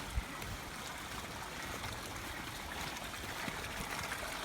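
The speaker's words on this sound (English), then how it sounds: "He pumps out all his water into this canal, which then all comes down here" Floodwater rushing down a canal in Kinindo, Bujumbura, Burundi, a steady broadband roar of flowing water, continuous and fairly close, with no speech.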